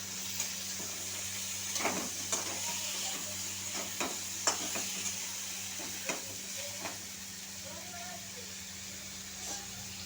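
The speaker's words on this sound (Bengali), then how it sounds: "প্রথমে তেজপাতা দিয়ে আলুগুলো তুলে দিলাম" Potatoes frying with bay leaf in a pan for a vegetarian banana-flower dish: an even sizzling hiss with several spatula scrapes and taps, while someone talks over it.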